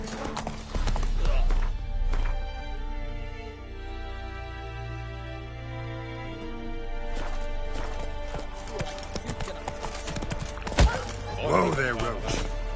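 Roach the horse trots in a video game, hooves clip-clopping among sustained musical tones, with a whinny-like burst and sharp knocks near the end; a voice speaks briefly over it.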